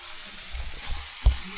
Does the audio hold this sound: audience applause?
no